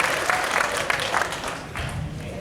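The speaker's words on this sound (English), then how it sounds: "That should be the biggest applause." Convention audience at a furry con applauds volunteers with a dense, sustained wash of clapping, steady throughout with a few louder bursts and a brief murmur of voices near the end.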